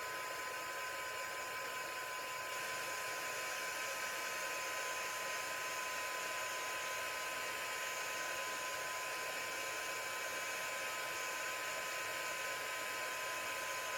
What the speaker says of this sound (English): You just got to keep the heat gun moving.